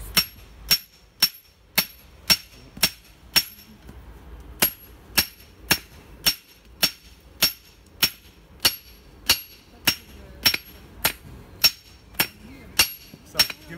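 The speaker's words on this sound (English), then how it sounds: "then you lift and you get more power down on the hammer." A blacksmith strikes metal with a hammer at a coal forge, a steady series of loud, ringing blows at a regular rhythm of about two per second, with a short pause before the hammering resumes.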